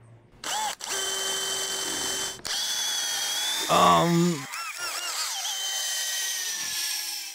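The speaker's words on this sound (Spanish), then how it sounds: "Es un poco de trabajo con esta broca. La clave es limpiarla constantemente para que no se sobrecaliente." Power drill boring holes while building a deck, several loud bursts of high-pitched whining with brief stops and speed changes between them, with a voice heard partway through.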